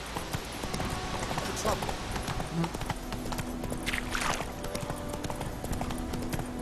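Horse hooves clip-clop steadily through a ride in The Witcher 3, a continuous rhythmic patter under game music and ambience, with brief spoken words mixed in.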